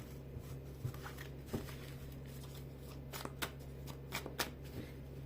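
Soft riffling and snapping of a card deck being shuffled, several quick bursts of flicks close by, fairly quiet.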